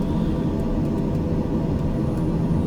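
The Daher TBM turboprop engine in a flight simulator gives off a steady, loud droning roar from the cockpit, continuous and unbroken for the whole stretch.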